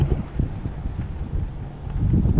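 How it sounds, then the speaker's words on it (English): Wind on a tennis court at an ATP Tour event in Shanghai, a steady low rumbling buffet against the microphone with irregular gusty thumps throughout, no talking. "I was facing the sun, and there was a lot of wind."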